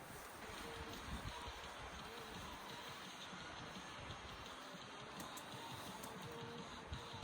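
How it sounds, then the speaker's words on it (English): Steady wind roars outdoors with a constant broadband rush and low buffeting rumble throughout, no voices. "It is definitely getting a little bit more windy out here."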